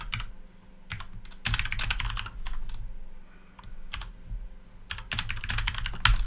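Typing on a computer keyboard while editing code, bursts of quick clicky keystrokes separated by short pauses, close and clear, with no speech.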